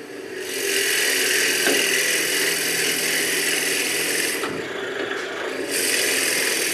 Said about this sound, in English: now the fun part is the drilling